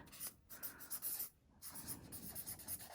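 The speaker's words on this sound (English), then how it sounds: "So I have a dry erase marker." A dry erase marker writing on thin tracing paper in an onion skin journal makes close, scratchy, squeaking strokes in quick bursts with two brief pauses, and no talking.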